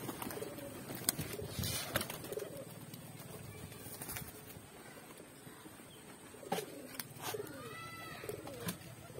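Pigeons in a loft coo softly in bursts against a steady background hiss, with a few faint chirps and rustles scattered throughout.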